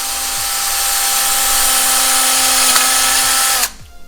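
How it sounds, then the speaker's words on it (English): A power drill whines loudly and steadily for over three seconds drilling a hole in a pipe, then cuts off abruptly, leaving faint clatter behind. "we have to drill a hole and put in each of those plugs for all of the tanks"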